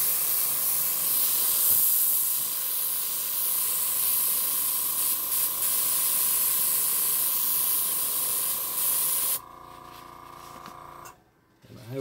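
An airbrush sprays paint thinned with thinner, a loud steady hiss with a faint tonal whine that cuts off abruptly near the end, leaving short quiet gaps and a last burst.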